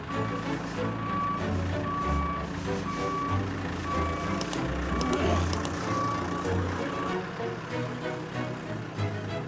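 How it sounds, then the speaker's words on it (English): A large loader lifting heavy antique items into a lorry sounds a steady run of evenly spaced reversing beeps over a low diesel engine rumble, with a few clanks and some talk in the background. "we need this enormous machine, this loader, to pick each of them up, drop them in the lorry"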